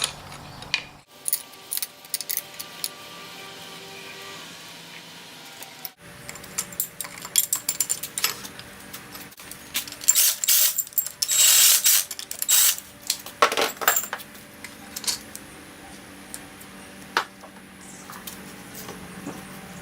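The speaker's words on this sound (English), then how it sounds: "it's going to push on that bolt and it's going to pull the harmonic balancer right off" Harmonic balancer puller working on a Dodge Viper engine during teardown, giving a steady run of faint metallic clicks, ticks and clinks from tool and bolt, with brief louder scraping bursts and no talking.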